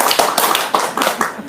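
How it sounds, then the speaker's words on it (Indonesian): An audience claps hands in a dense, loud burst, many overlapping claps pattering close by for a brief moment, with no talking. "Tepuk tangan."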